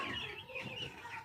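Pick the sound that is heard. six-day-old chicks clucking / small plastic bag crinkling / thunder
six-day-old chicks clucking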